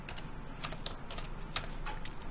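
Typing on a computer keyboard while coding a C++ program: a few quick, crisp key clicks in small irregular bursts, close and fairly loud against a soft background hiss.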